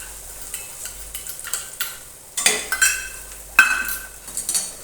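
Spoon stirring flour masala into frying bhindi (okra) in a pan: scraping strokes and clinks against the metal over a soft sizzle, with a few sharper scrapes standing out, close and moderately loud.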